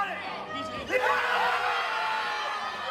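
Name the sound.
wedding guests cheering and screaming at football game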